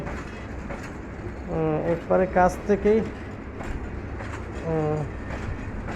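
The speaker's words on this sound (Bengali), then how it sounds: "ধীরে ধীরে সিলেটের দিকে রওনা হচ্ছে আন্তনগর বিমান, আন্তনগর ট্রেন" An intercity train departs Shamshernagar station in Bangladesh, bound for Sylhet, rumbling steadily nearby while people talk over it in short bursts; the low rolling noise persists throughout.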